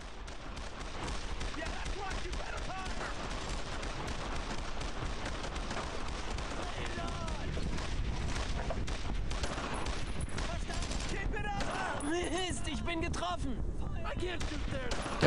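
Dense, continuous gunfire and explosions from the World War II shooter Brothers in Arms: Road to Hill 30, with rapid shots layered over a busy battlefield din that holds steady throughout.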